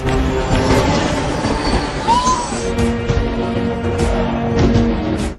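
A train at a railway station rumbles steadily and loudly close by, with rolling wheel noise, intermittent clacks and a brief squeal of wheels on the rails.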